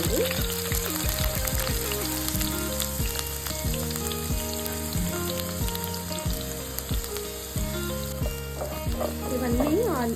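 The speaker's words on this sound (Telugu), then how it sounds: "ఇవన్నీ ఆయిల్లో కొంచెం ఫ్రై అవ్వాలి." Chopped onion and curry leaves frying in hot oil in a pan, a steady loud sizzle and crackle throughout with occasional stirring clatter, close and continuous without talking.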